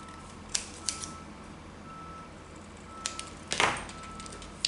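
Scissors snipping a small paper banner at a crafting table: a few quiet, crisp cuts in two short clusters over faint background hiss.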